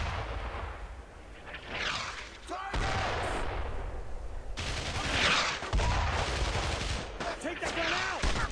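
Enemy gunfire in the WWII shooter Brothers in Arms: Road to Hill 30, with loud bursts of rifle and machine-gun fire and heavy impacts cracking repeatedly and close in a chaotic firefight.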